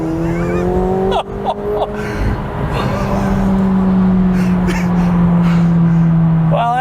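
A McLaren 720S supercar accelerates hard on the road, its engine note climbing steadily through a gear with a shift roar midway, loud from inside the cabin, with a gasp near the start.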